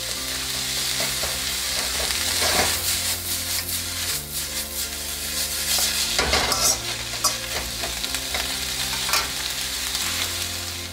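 Chow mein stir-fried in a pan for street-style Indian noodles: a steady, close sizzle with repeated scraping and tossing strokes of a spatula over about eleven seconds, and no talking.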